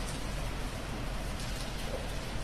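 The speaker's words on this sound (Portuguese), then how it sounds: "Ouçamos a chuva em Lisboa." Steady rain falls in Lisbon, a dense even hiss of drops close by without pauses or voices.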